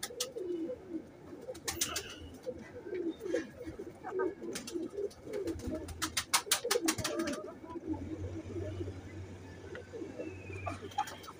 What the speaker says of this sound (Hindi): ये पट्ठा है 10 नंबर टैडी जो है चोई साहब के।